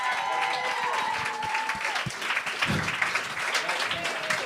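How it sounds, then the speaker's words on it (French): A comedy-show crowd at the Gong Show claps and cheers loudly and continuously for a contestant, a dense wash of applause with a bright, lively room sound that holds throughout. "On applaudit!"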